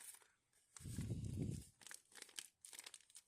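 Quiet crinkling of a plastic packet being handled, a denser burst of rustling in the middle followed by lighter scattered crackles.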